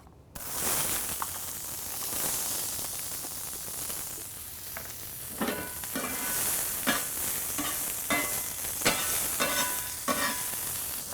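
Chopped onion sizzling in hot cooking oil for a copycat Five Guys burger, a steady bright frying hiss broken by repeated scraping stirs of a utensil in the pan.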